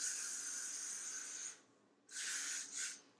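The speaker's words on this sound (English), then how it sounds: "I'm gonna put a little bit more of my hairspray on it." Hairspray misted onto freshly styled hair in two bursts: a long steady hiss of about a second and a half, a pause, then a shorter hiss and a quick final spritz, close and quiet.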